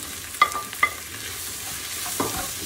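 Onion and tomato frying in a pan, with a low steady sizzle throughout and a couple of brief sharp clinks from stirring near the start.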